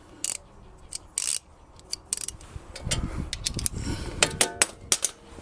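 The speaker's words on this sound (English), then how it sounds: "18 millimeter wrench in place." An 18 mm wrench works a brake bolt loose on a Dodge Magnum HEMI, giving sharp, close metallic clicks and ratcheting taps in uneven bursts, with a low rumble in the middle.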